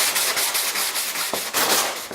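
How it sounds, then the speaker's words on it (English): A sanding block worked by hand across a fiberglass panel during hole repair, giving a loud, close, continuous rasping rub in quick back-and-forth strokes with a few short pauses. "I'm going to take this sanding block, and I'm just going to start sanding"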